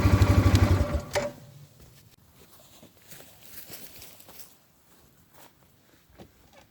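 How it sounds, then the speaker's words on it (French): A 600cc quad engine, pulled with a recoil starter, fires in a quick burst of rhythmic loud pulses that lasts about a second and then dies, leaving faint scattered taps and quiet. "tu peux aussi le démarrer au recoil starter"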